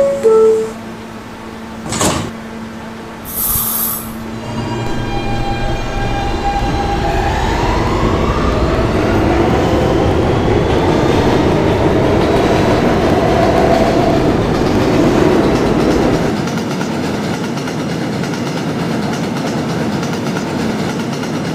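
A 2005–2010 Kawasaki R160 subway car on the E line runs through a tunnel with a loud, steady rumble and rail clatter that builds and holds, after a brief electronic chime near the start.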